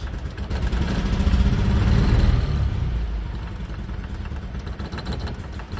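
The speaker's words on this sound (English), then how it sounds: "it's got a pretty low idle" A BMW Isetta's small engine idles low and uneven, a faint rough putter that swells slightly then settles, running alone without talk.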